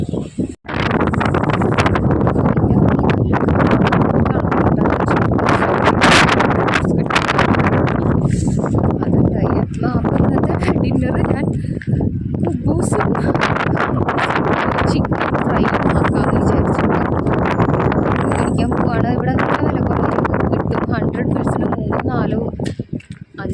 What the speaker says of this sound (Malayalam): അപ്പോൾ നല്ല കാറ്റും നല്ല തണുപ്പും ഉണ്ട്